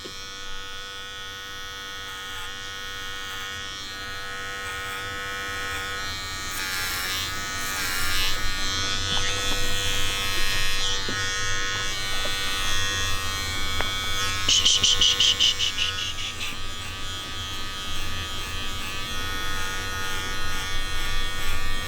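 Electric clippers buzz steadily while trimming a small dog during grooming, a close, continuous motor hum that rises slightly in load midway as the blades work through fur.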